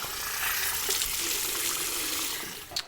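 Water from a tap runs steadily into a sink to rinse off after a wet shave with a Gem Micromatic razor, a close, continuous splashing hiss with no talk.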